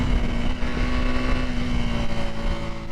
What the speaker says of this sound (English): This is a childish motorcycle.